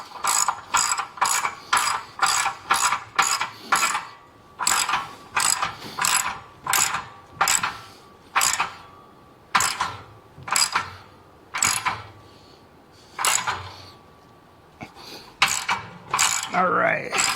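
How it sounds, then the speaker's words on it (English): A ratchet wrench tightens the front muffler clamp on a Harley-Davidson fitted with Tab Performance slip-on mufflers. Fast, close bursts of clicking strokes repeat steadily and stand alone, with short gaps between them. "So now I'm tightening the clamp at the front of the muffler."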